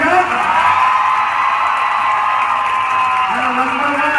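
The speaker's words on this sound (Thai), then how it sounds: "ขอเสียงปรบมือให้กับทีมแฟลชม็อบเลยครับ" A crowd at a shopping mall event cheers and whoops for a flash mob team, with a loud, sustained roar of yells and clapping close by and voices calling out above it.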